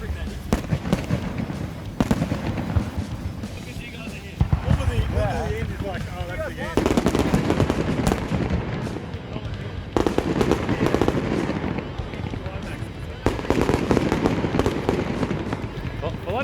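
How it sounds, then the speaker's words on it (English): Fireworks bang and crackle repeatedly at the finale of the 2021 Adelaide Rally, with dense bursts in a loud outdoor crowd setting, and voices talk through the display. "So I didn't even know we're going to get fireworks to end the event."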